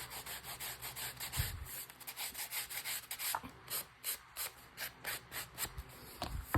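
An edge that has just been trimmed is roughed up by hand with rhythmic rubbing strokes, about a dozen short, close, scratchy passes in steady succession with no talk.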